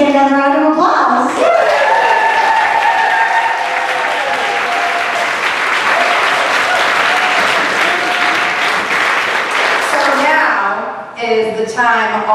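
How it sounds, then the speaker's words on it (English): Comedy show audience breaks into loud, sustained applause for about ten seconds, with cheering voices and a speaker's voice over the clapping at the start and end. "can we get another round of applause?"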